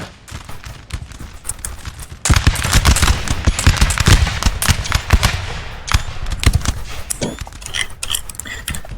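Musket volleys from line infantry in the Napoleon Total War 3 game, a Dutch civil war battle: ragged crackling volleys and scattered shots, growing loud and dense after a couple of seconds, then thinning into distant pops.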